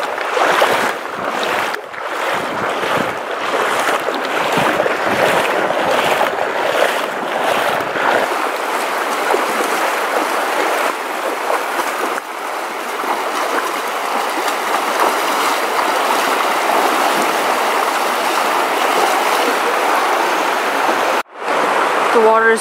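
Water of a shallow stream in Zion rushing and splashing around a wader's legs, a loud continuous wash with rhythmic sloshing steps early on.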